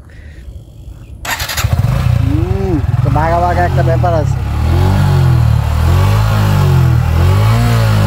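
A Suzuki Gixxer FI ABS motorcycle engine starts with a short crank and then idles and revs repeatedly up and down close by, with someone talking over it.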